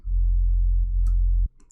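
A deep, steady sine-wave sub bass drone holds loud and even for about a second and a half, then cuts off abruptly, leaving faint low noise.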